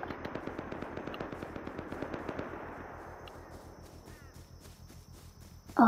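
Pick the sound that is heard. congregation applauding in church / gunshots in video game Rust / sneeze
gunshots in video game Rust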